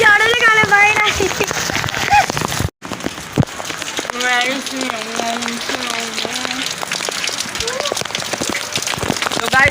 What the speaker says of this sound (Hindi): गाइस आप देख सकते हैं बहुत ज़्यादा तेज़ बारिश हो रही है